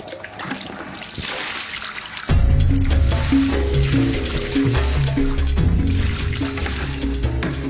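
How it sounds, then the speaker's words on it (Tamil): Liquid pours steadily into a container, a continuous trickling splash that starts abruptly and carries on with a faint murmur in the background. "சீக்கிரம் ஊத்துறா"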